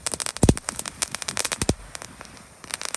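Spinning firecrackers crackle and pop rapidly in a dense, uneven stream, with a couple of louder bangs near the start.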